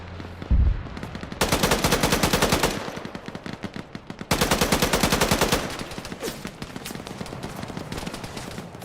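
Rapid automatic gunfire in Arma 3 hammers out in two long, loud bursts of evenly spaced shots. Scattered single shots and distant firing follow between and after the bursts.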